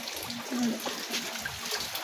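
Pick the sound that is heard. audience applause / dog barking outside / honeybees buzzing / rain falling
rain falling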